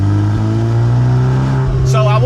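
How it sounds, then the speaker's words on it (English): Volkswagen MK8 Golf R engine revved hard to redline in Nürburgring mode, a loud sustained droning roar with steady harmonics that holds high before easing off near the end. "I literally just redlined the crap out of this car just now."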